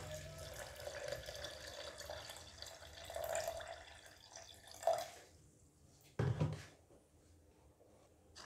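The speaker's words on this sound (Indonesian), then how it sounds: "terakhir kita masukkan air secukupnya" Water poured into a blender for a banana and sapodilla juice, a soft steady trickle and splash with a couple of louder gurgling bursts toward the end, no talking.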